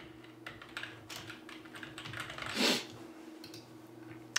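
Quick, close keystrokes on a computer keyboard as a new title is typed in, a busy patter of light clicks with one louder clatter midway, against a faint steady hum.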